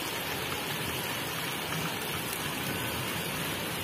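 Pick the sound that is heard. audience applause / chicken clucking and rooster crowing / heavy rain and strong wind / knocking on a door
heavy rain and strong wind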